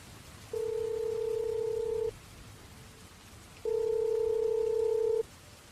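Two long steady telephone tones sound while a call is placed, each held for about a second and a half with a short quiet gap between them, clear over a soft hissing background.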